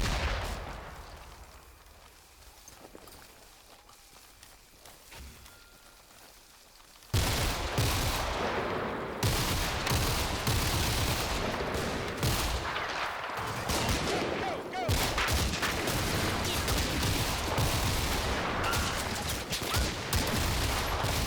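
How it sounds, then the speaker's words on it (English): Distant and near machine-gun bursts from an Italian Breda M37 heavy machine gun in Combat Mission: Fortress Italy, a sustained loud crackle of overlapping gunfire and impacts that starts suddenly after a quieter stretch and continues dense to the end. "an Italian Breda M37 heavy machine gun located at the top of the West Cliff defenses returns a burst of fire at one of my machine guns"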